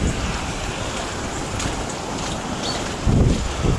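Water flows steadily through a hand-dug wetland channel outdoors, a continuous broadband rush with wind buffeting the microphone, swelling louder near the end.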